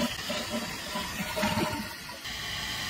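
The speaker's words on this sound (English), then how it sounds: "I'm going to flush the toilet and see how quickly the toilet bowl fills." A household toilet with a flow restrictor installed on its supply flushes, then water gushes and trickles steadily as the bowl refills, close and moderately loud.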